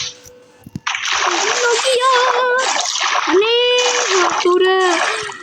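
Loud Minecraft water splashing rushes continuously after a short quiet start, while someone talks excitedly over it in the game world.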